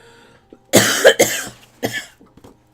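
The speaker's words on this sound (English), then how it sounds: "Cough, cough." Several harsh coughs in close succession, loud and near, with a brief pause between bursts and a couple of faint clicks trailing off.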